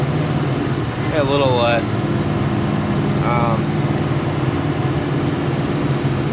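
A 1938 Ford Deluxe sedan with a Flathead V8 held at around 3,500 RPM, a steady droning engine hum from inside the car with brief whistling tones and a few spoken words.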